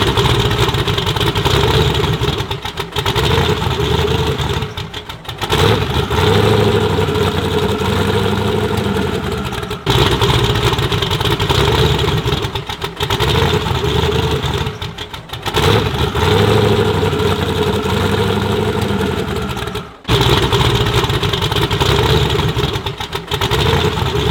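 Engine of a 1964 Ford F100 drift truck idles loudly and roughly nearby, with a steady rumbling lope broken by periodic brief blips and dips.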